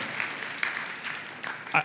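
Scattered applause at a blockchain community meeting tapers off as a voice speaks over it, with a few sharper claps standing out near the end.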